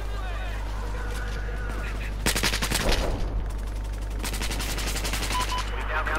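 Gun fired in Battlefield 4: a loud burst of rapid automatic shots midway, then another longer rattling volley, over a steady low hum and background game noise.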